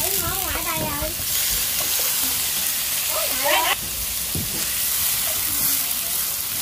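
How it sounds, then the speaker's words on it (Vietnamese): Pineapple, garlic and seitan sizzle steadily in a hot pan, a constant frying hiss under a woman's speech, with occasional scraping stirs. "Rồi các bạn hãy xào nó lên nha"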